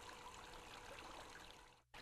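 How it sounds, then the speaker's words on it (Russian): A homemade garden waterfall trickles softly and steadily, a faint continuous stream of running water that drops out briefly near the end. "Вот тут водопад."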